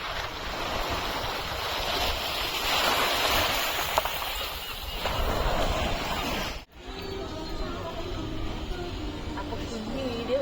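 Sea waves wash and break on the beach at Llandudno, North Wales, a steady surging rush with wind buffeting the microphone, followed by a quieter stretch of surf after a brief cut.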